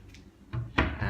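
A push-to-open matte two-pack kitchen cupboard door opens with a soft press click, then a couple of short knocks and thuds, fairly close in a quiet room.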